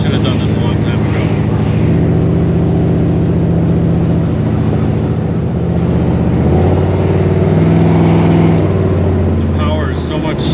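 A Chevy square body dually truck with a 454 big block and an Edelbrock carburetor drives along, its engine a steady low rumble that swells and eases with throttle, close and continuous throughout.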